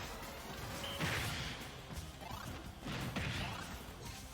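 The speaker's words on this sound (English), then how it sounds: "Wii Fit Trainer absolutely nailing all of these forward smashes" Forward smash attacks land in a Super Smash Bros match with Wii Fit Trainer fighting Ridley, two heavy crashing impacts about two seconds apart rising over a dense, busy game-sound bed.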